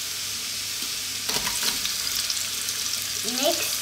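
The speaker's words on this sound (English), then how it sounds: "Now we're going to put the onions in." Sliced onions hitting hot oil with garlic in a pan for vegan bell pepper fried rice, a sudden close sizzle that flares up and settles into a steady hiss, with light scraping near the end.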